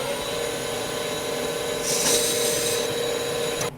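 Lathe taking a light facing cut on a wood belt-grinder wheel, a steady machine hum with a brief brighter scraping burst of cutting partway through before it tails off.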